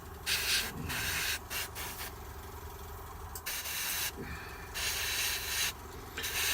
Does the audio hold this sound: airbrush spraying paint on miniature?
yes